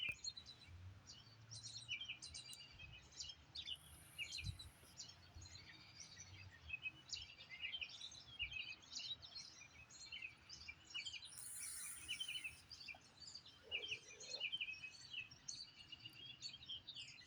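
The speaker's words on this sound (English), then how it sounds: "Listen to the birds go." Birds chirp and tweet outdoors in a steady, busy chorus of overlapping calls at moderate distance, with a soft insect or cricket buzz underneath and no talking.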